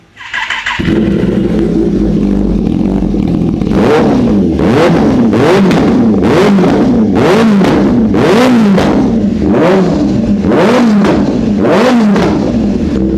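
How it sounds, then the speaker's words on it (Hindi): A second-hand superbike's exhaust idles loudly up close, then rises into a series of about nine rhythmic throttle blips, each revving up and dropping back in a steady, repeating pattern with no talking. "ये जो आवाज़ है जो सबके दिलों में लगने वाली है, बहुत सुंदर आवाज़, एक सुंदर से एग्जॉस्ट की।"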